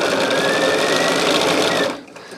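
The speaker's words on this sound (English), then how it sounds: "all I'm doing is just sewing these together here" Sewing machine stitching mini charm fabric squares together into rows, a steady loud motor whir with rapid needle chatter that runs alone for about two seconds before cutting off.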